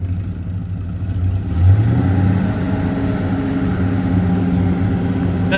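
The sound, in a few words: 1966 Chevrolet Chevelle SS 396 engine revving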